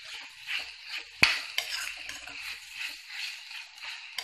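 Vegetables and grated coconut sautéing in a pan for a mixed-vegetable chutney, a continuous soft sizzle with stirring scrapes and one sharp utensil knock against the pan, close and with no speech.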